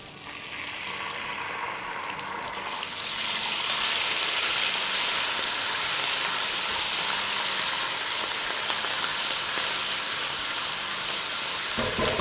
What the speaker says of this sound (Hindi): ये जो बबल बबल बबल हो रहा है